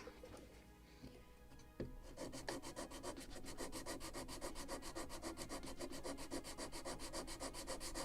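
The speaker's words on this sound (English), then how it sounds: "So it's sanding, polishing with a Scotch-Brite," A wooden part of a model of the 1776 gunboat Philadelphia is sanded at the stern. After a quiet start, fast, even rubbing strokes rasp steadily and close up, though faint overall.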